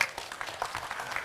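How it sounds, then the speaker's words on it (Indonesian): Brief, fairly light applause from a small group for the first discussion group at a gathering, a short burst of scattered clapping lasting barely more than a second. "Tepuk tangan untuk kelompok yang pertama."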